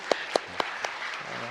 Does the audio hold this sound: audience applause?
yes